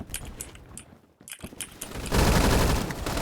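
Rapid shotgun fire with mini shells in the online shooter Phantom Forces: bursts of gunfire with mechanical clatter early on, a short lull, then a loud sustained barrage of shots that fills the end of the clip.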